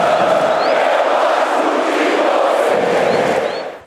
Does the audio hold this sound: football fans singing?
yes